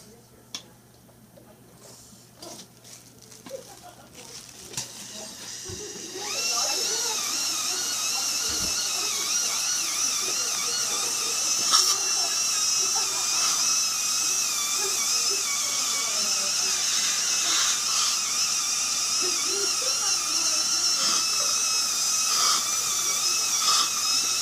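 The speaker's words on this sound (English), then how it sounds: "Now this polishing wheel is a Centrex" A Centrex polishing wheel spins against a dental restoration, starting quietly and rising after several seconds to a steady high-pitched whine that wavers slightly in pitch as the piece is worked.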